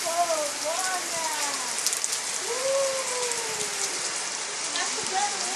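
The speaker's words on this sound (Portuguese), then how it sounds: "Tá chovendo muito!" Heavy rain pours steadily onto surfaces nearby, a loud continuous hiss with dense drops throughout, while a voice rises and falls faintly underneath.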